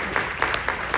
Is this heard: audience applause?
yes